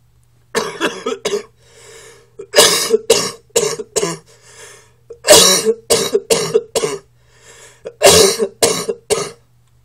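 A run of harsh, repeated coughs in close succession, loud and near, with short pauses between bursts and no talking.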